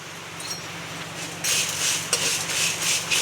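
Spices with mustard seeds dry-frying in a pan with only a spoon of oil for a Mangalore-style bangude (mackerel) dish: a soft steady sizzle with scraping stirs and small clinks, no talk.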